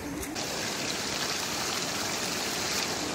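The Ahilya river rushes steadily below a waterfall in Lahaul, a continuous broadband roar of flowing water that holds constant at close range with no voices over it.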